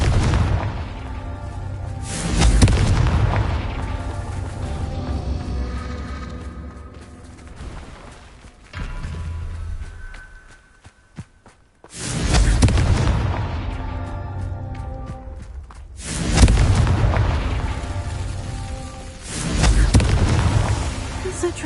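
Confringo blasting-spell explosions in the Hogwarts Legacy video game come as loud booming bursts in three or four surges, separated by quieter stretches.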